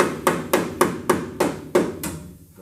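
Hammer blows on the firewall of a 1969 Chevy C10 during customization work: seven sharp, evenly spaced metallic strikes, close and loud, with ringing decay between hits and no talk.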